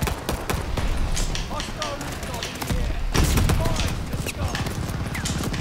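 Pistol fire in a video game crackles as rapid repeated shots and impacts across the whole stretch, with a louder burst just past the midpoint and a voice talking over it.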